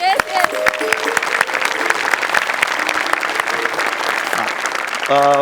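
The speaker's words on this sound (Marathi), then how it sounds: "एकदा जोरदार टाळ्या" A studio audience at a Marathi comedy show breaks into loud, sustained applause, dense clapping that continues for several seconds, with voices and a few tonal sounds mixed in.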